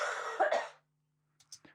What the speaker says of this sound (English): So it's the sound of somebody coughing